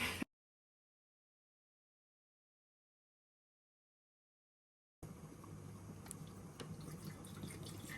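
Water pours for a single mug of clove tea, a steady splashing stream that starts only after about five seconds of near silence and runs on to the end.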